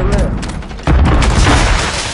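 Mortar strike explosions in Warzone on PS4, a heavy booming blast with rumbling fusillade-like follow-up, loud and close, with a voice talking over it.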